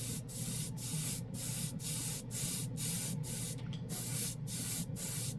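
An airbrush spraying Airbeast Super Chrome paint over a white base coat, giving a series of about ten short, even hissing bursts in a regular rhythm, close and fairly loud with no talk.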